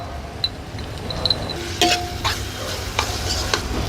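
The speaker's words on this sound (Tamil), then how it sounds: "இப்போது 8 பல்லு பூண்டு நாங்கள் நசுக்கி போடுறோம்." Crushed garlic, eight cloves, sizzling in a pan and stirred with occasional light clinks of a utensil against the pan, close and steady with no voices.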